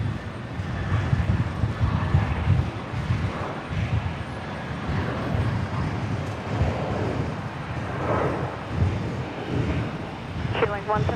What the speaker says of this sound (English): Jetstar 485 here, just about to rotate.